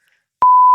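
A loud, steady censor bleep tone cuts in abruptly after a near-silent start and holds flat until the end, with no talk over it.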